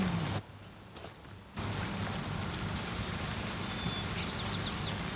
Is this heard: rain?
yes